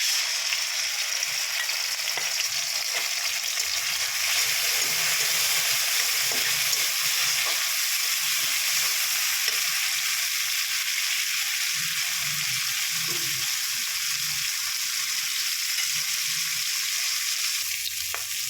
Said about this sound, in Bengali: প্রথমেই আমি চিংড়ি মাছটা ভেজে নেব।